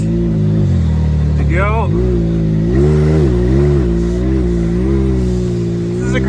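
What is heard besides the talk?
car engine revving while pulling another car in reverse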